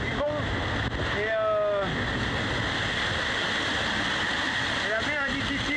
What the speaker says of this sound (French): il fait beau, par contre il y a du vent et